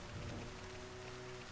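Steady rain falls in the game Xenoblade Chronicles, a dense continuous hiss of drops on surfaces at an even level, with no voices over it.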